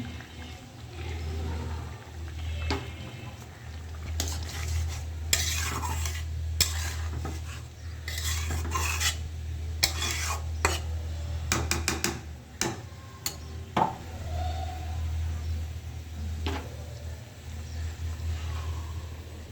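Egg curry being stirred in a pot after garam masala powder goes in, giving irregular clinks and scrapes of a utensil against the pot over a low steady hum, with no talking.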